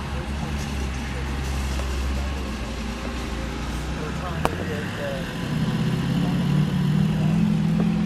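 Black 1967 Mercury Cougar GT hardtop with a 390 V8 and four-speed, idling with a steady low rumble close by, the note deepening and growing louder in the second half after a brief click.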